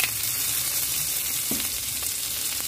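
Tomatoes sauté in a hot pan for pork-rib sinigang with guava, giving a steady, close sizzle with a few faint stirring scrapes and no talking.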